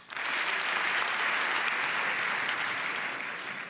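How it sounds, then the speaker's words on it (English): A lecture audience bursts into loud, dense applause on cue, a sustained wash of many hands clapping close and even for a few seconds before tapering slightly at the end. "If you trust Amazon the most, clap now."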